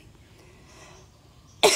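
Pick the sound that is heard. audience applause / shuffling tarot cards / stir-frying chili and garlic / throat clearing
throat clearing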